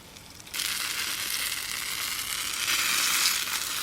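A pancake frying on an alcohol stove. The pan is quiet at first, then a loud, close sizzle bursts in and holds steady, swelling slightly toward the end.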